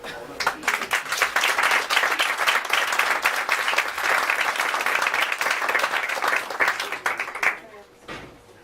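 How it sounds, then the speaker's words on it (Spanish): A seminar audience breaks into sustained, enthusiastic applause, loud and dense for several seconds before tapering off abruptly. "Por un aplauso."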